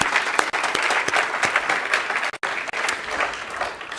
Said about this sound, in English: Let's give them a round of applause for putting on such a wonderful conference.